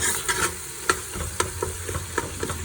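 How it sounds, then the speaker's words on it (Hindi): Masala frying in oil in a pan, a continuous bright sizzle punctuated by rhythmic scraping strokes of a spoon roughly every half second, close and alone without talk. "तो ये देखिए मसाला हमारा भून रहा है।"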